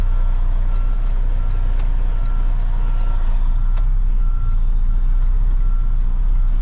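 A tractor-trailer truck reversing toward a loading dock, its backup alarm beeping steadily over a loud, constant diesel engine rumble, close and continuous.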